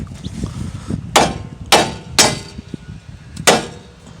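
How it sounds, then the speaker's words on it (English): A 2.5 pound hammer striking a 2015 Mazda 3 steering knuckle during an inner tie rod replacement, four sharp metallic blows spaced about a second apart, close and loud over faint background noise. "Now you want to hit the knuckle right here until it pops free."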